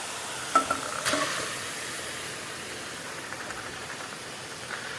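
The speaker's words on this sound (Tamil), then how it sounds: "இந்த டைமில் நம்ம சிக்கன் க்ளீன் பண்ணி வச்சுக்கிற சிக்கனை போட போகிறோம்" Chicken pieces tipped into a simmering tomato gravy, a few thuds and splashes at the start giving way to a low steady sizzle and hiss, close but fairly quiet, no talking.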